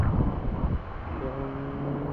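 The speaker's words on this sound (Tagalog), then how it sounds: "Yung hangin." Cold wind blows steadily at a riverside campsite, a broad low rush of gusts buffeting the microphone throughout, with no speech over it.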